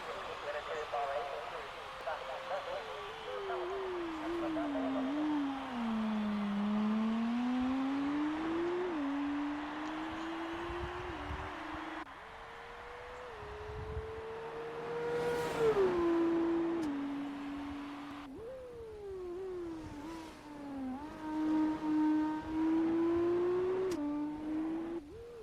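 F1 2019 race car engine on a Bahrain lap in the video game, a high whining note rising and dropping through gear changes and braking, steady throughout under near-constant commentary.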